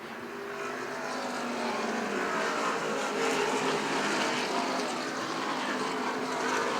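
Race cars at the Beech Ridge track, a broad, continuous engine roar that swells in from a quieter start and holds steady, heard at some distance.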